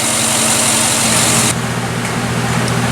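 A 2007 GMC Yukon with a newly replaced engine idles steadily and evenly close by, a constant low hum with a faint high whine that drops away partway through, no voices.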